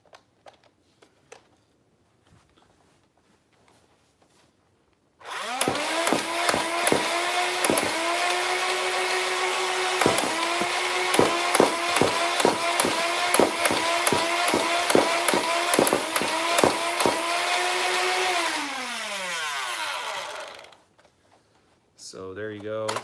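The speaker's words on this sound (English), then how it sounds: "Shot off all the darts, no jams. And that's with Boomco darts." An Adventure Force Commandfire motorized toy blaster spins up with a loud whirring motor and fires Boomco darts in a rapid rhythmic string of clacks, then winds down as the motor stops, close and loud.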